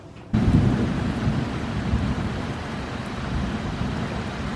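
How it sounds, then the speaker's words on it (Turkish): A thunderstorm with rain begins abruptly: heavy, loud, low rumbling thunder rolls in and holds steady, with a constant hiss of rain falling close by and no talking. "Sonunda yağmur başladı. Bir de evet şimşek çakıyor."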